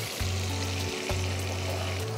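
Ingredients hitting oil in a pan for prawn korma, giving a dense, steady frying hiss under a low hum that cuts out briefly, with no talk.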